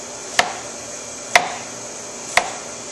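A knife chops bell peppers into 1-inch pieces on a cutting board, three crisp evenly spaced thunks about a second apart, close and fairly quiet, with no talking.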